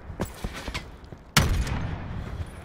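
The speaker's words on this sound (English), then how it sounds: "getting shot at" First-person shooter gunfire: a few scattered distant shots, then a single loud, close blast that trails into a lingering rumble with faint pops afterward.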